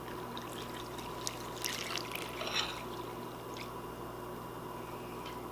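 Three cups of water pour into a bowl of wheat berries for homemade survival ice cream, a soft continuous trickle and splash under steady background hiss, with no talking.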